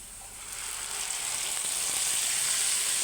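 Shredded dried fish (shutki) sizzles steadily in a browned spice paste in a pan, a soft continuous crackle that swells slightly over a few seconds.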